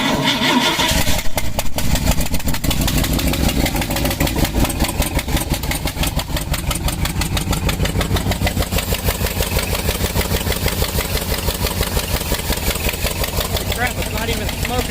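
A 1960s International Scout engine, sitting for 13 years, cranks and catches, then runs on in a loud, steady, rough idle with a pulsing rhythm close by, while people talk over it.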